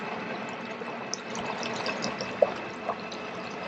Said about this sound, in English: The motor is kicking on, and we see white water coming out.